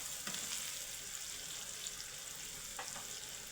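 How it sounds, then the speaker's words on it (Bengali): Cumin, black pepper and green and black cardamom frying in hot oil, a faint steady hiss with a couple of light stirring scrapes, quiet and continuous without speech. "তেল দিয়ে হালকা করে গোল্ডেন কালার করে একটু ভেজে নেব।"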